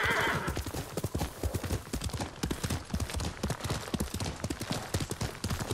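A horse in the video game Ghost of Tsushima gallops with steady, rapid clip-clopping hoofbeats throughout, loud and close, with a whinny near the start.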